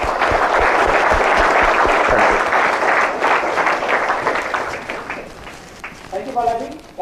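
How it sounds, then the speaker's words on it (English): A crowd applauds, dense steady clapping that gradually thins out and fades, with a voice starting to speak near the end. "give all of us a round of applause for the amazing work that you're doing"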